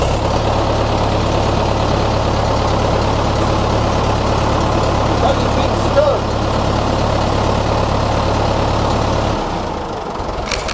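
A heavy tractor engine idles with a steady low throb, running continuously before cutting off near the end.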